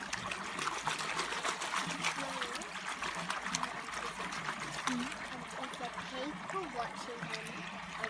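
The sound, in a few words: panning gold in water, washing pipe clay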